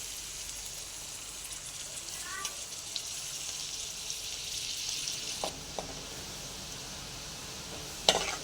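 Finely chopped onions sizzle steadily in hot oil in a kadai, a constant hissing fry with a few clinks of stirring near the end.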